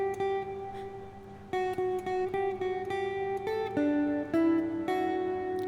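An acoustic guitar plays a short instrumental phrase, plucked note by note with clean stepped pitch changes and no sliding, clear and solo.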